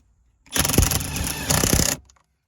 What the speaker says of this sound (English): I'm gonna impact it on now. And impact time.